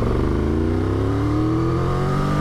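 A 2023 Triumph Tiger 1200 Rally Explorer motorcycle engine roars loudly and steadily, its induction note rising smoothly as it accelerates, filling the scene with no voices.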